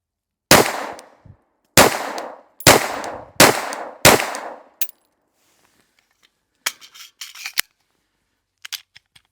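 A Glock 43x pistol fires 115 grain rounds: five sharp, loud shots spaced about a second apart, each with a short ringing decay, then quieter clicks and handling sounds.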